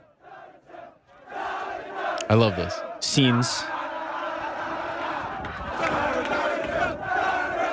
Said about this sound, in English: Speaking of crowd reactions to Darren Till, here we have outside the arena